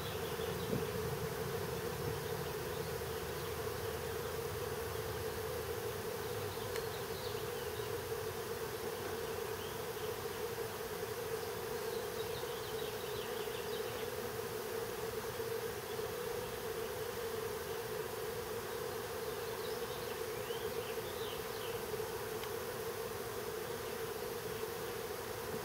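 Honeybee swarm leaving a Warre hive whose queen could not fly: a constant, dense buzzing hum of many bees, steady and moderately faint throughout, with no speech.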